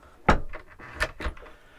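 A cabin door aboard a 2014 Princess 72 yacht opens with a few close knocks and clunks: one sharp hit, then two more about a second later, with no talk.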